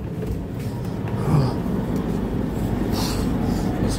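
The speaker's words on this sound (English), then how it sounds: "And that was my bus number" A gas-powered bus, number 440, rumbles past with a low engine drone that swells and fades, set against steady road and traffic noise.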